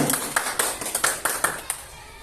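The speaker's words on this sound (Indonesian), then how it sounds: "Tepuk tangan dulu untuk Pak Ibu." A small group claps for the teachers at a school training session, about eight sharp claps in an uneven rhythm over a couple of seconds.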